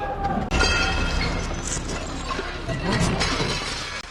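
Glass shatters amid rummaging through discarded household items while dumpster diving, a sudden crash followed by sustained rattling and scraping of debris, close and fairly loud with no talk over it.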